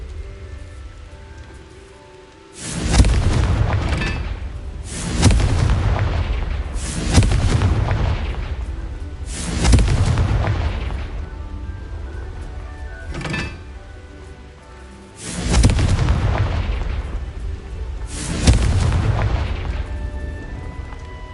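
Repeated Confringo fire spell explosions in a Hogwarts wizarding video game, about eight heavy booming blasts spaced a couple of seconds apart, each a loud broadband burst with a rumbling decay, under no speech.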